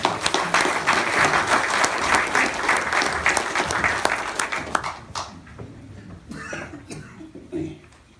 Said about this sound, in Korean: 여러분들 굉장히 큰 박수로 환영해 주시기 바랍니다.